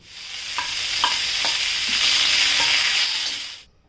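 Coconut, onion, green chilies, coriander, ginger, garlic and tomato roasting in oil for Punjabi dhaba-style rajma masala, a steady loud sizzle broken by a few sharp clinks of a spoon stirring the pan, with no talking, ending abruptly.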